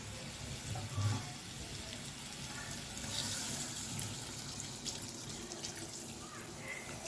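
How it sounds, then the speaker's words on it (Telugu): Water poured into chicken curry in a pan makes a steady, continuous splashing rush at moderate volume, with no talking. "ఇలా కొన్ని వాటర్ పోసి ఉడికిన తర్వాత చూద్దాం."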